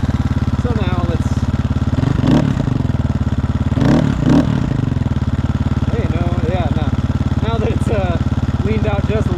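A 2022 GPX FSE300R motorcycle engine tuned with an ARacer ECU idles with a steady, close throb and is revved sharply twice before settling back, while someone talks over it.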